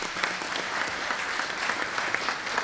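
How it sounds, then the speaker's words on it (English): A room at a Durham City Council meeting fills with steady applause, a dense patter of many hands clapping throughout, moderately loud and even with no talking. "So let's give him a round of applause."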